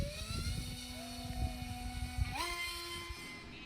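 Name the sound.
ZOHD Talon RC plane motor during auto launch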